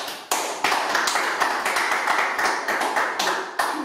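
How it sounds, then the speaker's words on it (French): A short burst of audience applause, brisk, dense clapping that rises abruptly and continues steadily at close range for a few seconds. "Merci, applaudissez pour vous."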